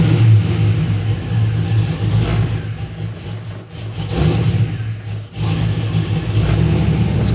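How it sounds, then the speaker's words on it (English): An LS V8 with a freshly swapped camshaft revs loudly and close up in a home garage, its choppy idle rising and falling through several throttle blips with no talk over it. "pushing on the gas a little."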